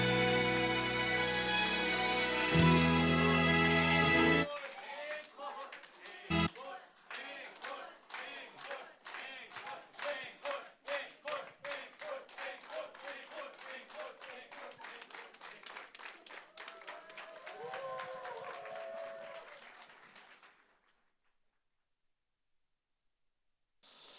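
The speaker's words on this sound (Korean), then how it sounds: "영광의 박수 올려드리겠습니다" A worship concert crowd breaks into applause after a closing song fades out, starting with rapid, crisp, rhythmic clapping that becomes a dense ovation, then dies away into near silence.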